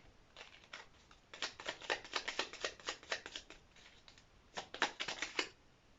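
Tarot cards being shuffled and drawn, heard as bursts of crisp riffling and flicking, quiet and close, with pauses between flurries and no talk.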